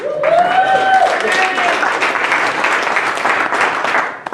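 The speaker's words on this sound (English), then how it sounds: "I think Greg deserves a round of applause" A meeting audience applauds steadily and fairly loudly, with a brief tonal sound and some voices mixed in near the start.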